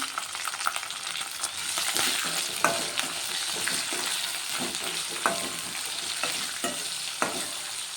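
Garlic and cumin seeds frying in a pan for a ridge gourd and tomato chutney make a steady close sizzle, punctuated by repeated scraping stirs at irregular intervals, with no talking.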